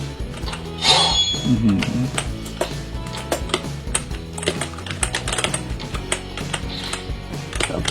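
Keyboard keys pressed while playing Roblox on a phone with a keyboard and mouse attached: a busy run of quick clacks and taps, fairly close and loud, with irregular bursts throughout.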